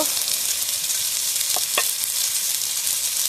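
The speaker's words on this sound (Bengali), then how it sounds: "টমেটোটা এইভাবে ভালোভাবে ভেজে নিয়েছি এবার আমি মশলা দেবো হলুদ গুঁড়ো লঙ্কা গুঁড়ো" Tomato masala with turmeric and chili powder fries in a pan for chicken wings kosha, giving a steady, bright sizzle with a couple of quick scraping stirs midway.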